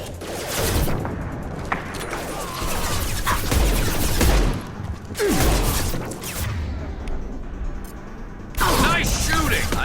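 A firefight in the sci-fi shooter Mass Effect 2, with loud, dense bursts of weapon fire and whooshing impacts rising and falling over several seconds, and voices calling out between volleys.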